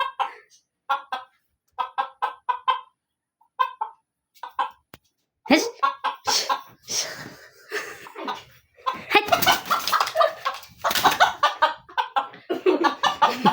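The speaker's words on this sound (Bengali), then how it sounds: "মোরগ ঝগড়া লাগছে আয়নার সাথে।" A rooster attacking its own reflection in a mirror gives off a series of short, clucking bursts, first spaced apart and then denser and louder, with flapping scuffles and excited voices mixed in near the end.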